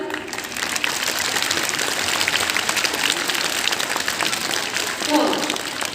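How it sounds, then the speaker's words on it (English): Students at a school welcome-back session applaud themselves, a sustained dense round of clapping filling the hall, with a brief voice near the end. "Give clap for yourself."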